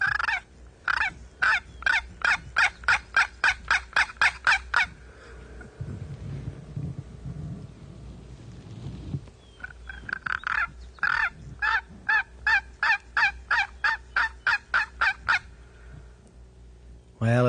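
A turkey hunter's box call rasps out a fast string of loud yelps, pauses for a stretch of softer scraping, then starts again with another long run of clucking yelps.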